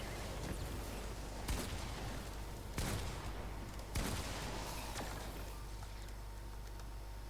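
Enemy gunfire aimed at the player in a video game, a dense continuous fusillade with several louder sharp bursts standing out from the steady rattle.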